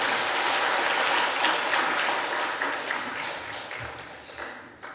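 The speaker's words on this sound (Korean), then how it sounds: "우리 큰 박수로 환영하겠습니다." Warm applause from a church audience welcoming a missionary to the pulpit; close, full clapping continues throughout and gradually softens toward the end, with no speech over it.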